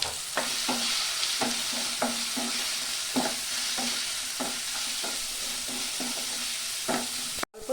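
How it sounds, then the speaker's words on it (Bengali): Spice masala for an egg soyabean curry fries in a pan, a steady close sizzle broken by repeated rhythmic scrapes of a stirring spoon, ending with a brief clatter. "ভালো করে মশলাটা কষিয়ে নেব।"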